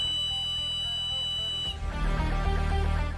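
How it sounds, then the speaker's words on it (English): A shrill emergency whistle from a folding survival shovel multitool sounds as a steady high-pitched tone, then cuts off into a lower, noisier rush for the final second or so. "Survival shovel set also comes with an emergency whistle,"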